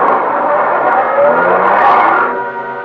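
Car engine running and driving off in a radio drama effect, a steady loud motor hum that rises briefly then begins to fade away near the end, with no voices.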